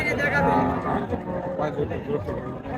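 A Gir cow moos loudly at a busy cattle market, one long, low call over crowd chatter and nearby voices.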